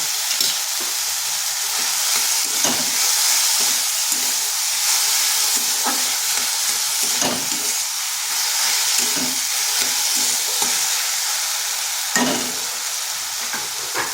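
Salted apples cook in a pan for apple chutney, giving a steady loud sizzle and hiss broken by occasional stirring scrapes, with no talk.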